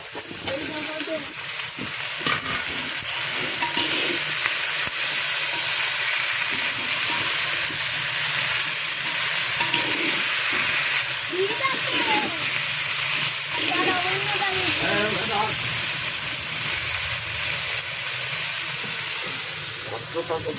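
Cut eggplant pieces sizzle and hiss continuously in a clay pot as they fry, a loud, steady crackle that lasts throughout.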